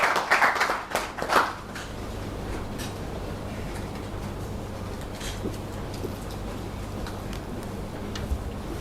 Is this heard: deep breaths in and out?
no